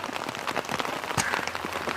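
Heavy rain falling on a rural home plot, a dense continuous patter of drops striking surfaces with a few louder spatters, steady throughout and with no talk.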